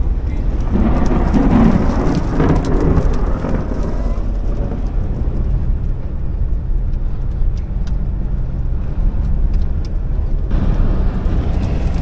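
Heavy thunderstorm with rain during a sandstorm, a loud continuous wash of rainfall and deep rumbling thunder that swells early, then settles into steady downpour with scattered sharp drops near the end.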